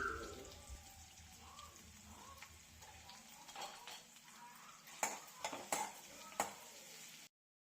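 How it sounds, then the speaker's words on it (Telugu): Curry leaves and turmeric fry quietly in a pan, a faint sizzle under scattered scrapes and metallic taps of a spoon, soft and close. "అన్నీ వేసుకొని మంచిగా ఫ్రై అయిన తర్వాత పసుపు కూడా యాడ్ చేసుకుందాము పసుపు కూడా యాడ్ చేసుకొని అది కూడా కొద్దిసేపు ఫ్రై అవ్వాలి"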